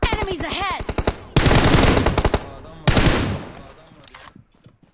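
Rapid automatic gunfire rings out in PUBG Mobile, several loud bursts of close shots with pauses between them, while players talk excitedly over the shooting.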